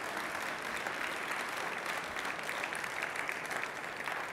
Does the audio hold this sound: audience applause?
yes